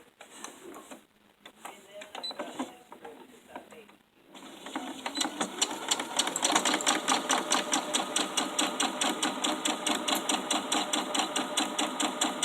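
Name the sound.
sewing machine stitching lining of small fabric gift sacks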